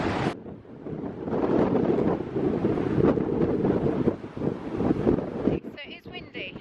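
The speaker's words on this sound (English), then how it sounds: "So it is windy." Strong storm gusts buffet the microphone in a steady roar on the coast at Mawgan Porth near Newquay, with a voice speaking faintly beneath the wind noise.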